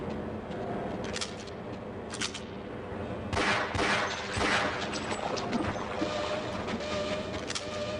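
Rapid automated turret gunfire in Half-Life rattles in dense bursts over several seconds, with sharp cracking shots clustering and intensifying midway through, fairly loud and continuous.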